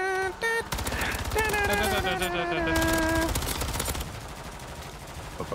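Rapid pistol fire in MW3 Zombies, a dense run of sharp shots stacked over chiming game effects and ringing tones, loud and close, with a voice talking over part of it.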